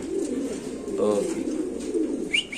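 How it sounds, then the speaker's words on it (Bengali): A large male pigeon coos in a low, throaty burst close by, with faint voices and a brief higher chirp in the background, at a pigeon sale. "অনেক বড় সাইজের কবুতর দেখেন এই যে নর কবুতর"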